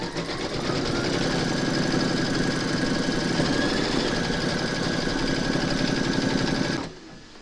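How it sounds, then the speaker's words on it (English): A home embroidery machine stitches applique dungarees on a hoop, a steady fast mechanical whirring chatter that runs evenly for several seconds before stopping abruptly. "Load your thread colour for his dungarees into your machine and then stitch round number 5."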